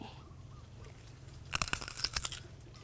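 Someone bites fresh green bekul fruit, an apple-like fruit picked straight from the tree, and it gives a loud, close, crisp crunch followed by a few quick chewing crackles, after a quiet outdoor pause.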